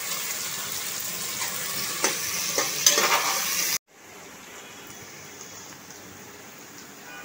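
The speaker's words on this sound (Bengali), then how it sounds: "দিয়ে দিলাম ম্যারিনেশন করে রাখা চিকেনটা" Marinated chicken fries in a pot with a dense, rain-like sizzle and a few scraping stirs. The sizzle cuts off abruptly partway through, leaving a quieter low hiss.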